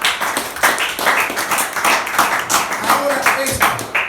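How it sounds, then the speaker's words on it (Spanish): A church congregation claps along in a quick, uneven rhythm, many hands close by, the sharp claps repeating continuously for a few seconds. "Vamos a aplaudirlo."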